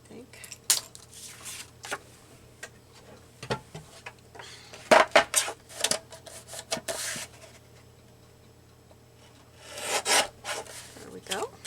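A paper craft tag being cut with a trimmer: scattered close scraping, sliding and clicking noises come in irregular short bursts over a quiet background, with one longer rasping stretch near the end.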